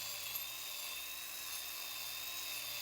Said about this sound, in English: So now she's using the part of the hoof boss there that has a guard on it to go kind of in between the hooves